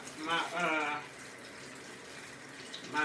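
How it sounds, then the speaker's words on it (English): Tap water runs steadily into a sink as vegetables are rinsed, a soft continuous wash with a voice speaking over the start and again at the end. "Rinse them off here."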